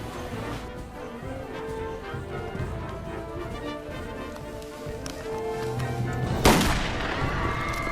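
Gunfire in a film scene depicting the 1909 assassination at Harbin station, with a loud sharp shot near the end standing out over a dense, busy background of rumbling sound and music.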